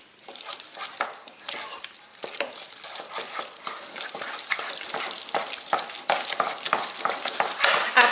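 Eggs are stirred by hand into choux pastry dough for chouquettes, a continuous wet, sticky slapping and squelching with uneven rhythmic strokes, close and fairly loud, with no talk over it.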